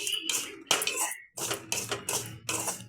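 Semolina being sautéed in a pan on a stove turned down low, with a spoon scraping and stirring in steady repeated strokes and short pauses between them, close and fairly loud.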